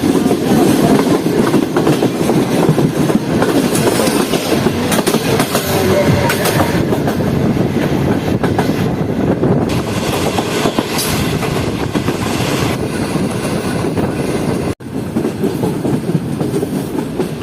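Karakoram Express passenger train running on rails near Khairpur, heard from on board: a loud, constant roar and rattle of carriages with rhythmic wheel clatter and occasional squeaks, steady for the whole stretch.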